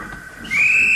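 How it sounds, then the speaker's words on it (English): A railway guard's whistle at a junction gives one loud, sustained shrill blast that starts halfway through and holds steady to the end, rising over quiet background. "Ah, that's my guard's whistle."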